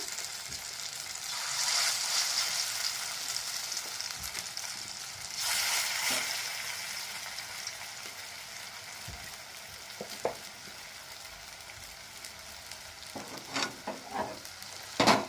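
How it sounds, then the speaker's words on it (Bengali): Koftas of pointed gourd frying in hot oil in a kadai, a steady close sizzle swelling in two louder bursts, with a few small clinks and pops near the end. "আবারও আমি কোপ্তাগুলো দিয়ে দিলাম"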